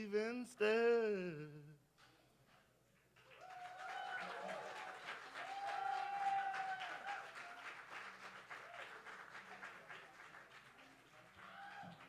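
Audience applause at the Berkeley Slam poetry event, rising after a brief voice and holding steady as a dense, sustained patter of many hands, with a faint tonal sound partway through.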